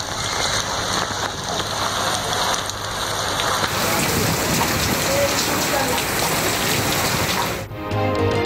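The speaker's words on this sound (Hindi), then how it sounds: "तेज हवा के साथ मूसलाधार बारिश।" Torrential rain driven by strong wind pours down in Karachi, a dense, loud, steady roar of water hitting surfaces that continues almost unbroken from start to finish.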